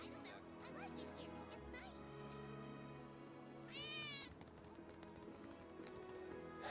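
A cat in a video game gives a short, rising meow, fairly clear amid steady background music and ambient game sounds, with people talking around it.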